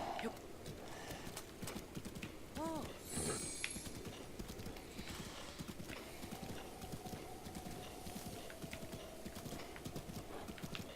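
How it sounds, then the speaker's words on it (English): Horse galloping in Zelda: Breath of the Wild while wearing ancient horse armor, steady rapid hoofbeats running throughout with a whinny partway through, under faint game music and ambience. "It gets me where I want to go faster."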